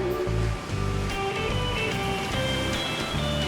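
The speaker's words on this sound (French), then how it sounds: "Changement d'ambiance pour aller à la plage." Waves wash onto a beach in a steady, rushing roar of surf, with no voices heard.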